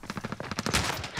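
Rapid gunfire from a video game battle royale, a dense burst of sharp shots in quick succession, loud and close, with continuous noisy firing toward the end.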